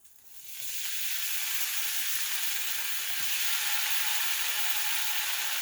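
Pineapple chunks dropped into a hot pan, frying with a steady loud sizzle and hiss that rises and holds, no talking.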